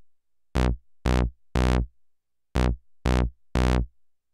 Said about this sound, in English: what you're hearing is I have different gate settings for the individual steps